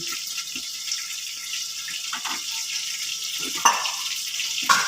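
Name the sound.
water poured into pan of vegetables and fish head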